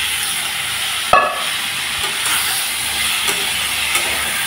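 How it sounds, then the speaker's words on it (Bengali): Vegetables with turmeric, salt, green chilli and tomato fry in a pan, giving a steady broad hiss with a few light clinks from stirring. "এখন আমি সবজিটাকে ভালো করে ভাজা করে নেব"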